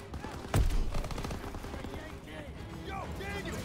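A half-track machine gun fires in the Call of Duty: WWII video game, opening with one loud close blast and then a rattling burst of gunfire, while battle noise and shouting carry on around it.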